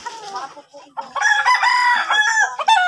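A fighting cock crows loudly and close by, a long clear cock-a-doodle-doo after a shorter call, with a little clucking around it.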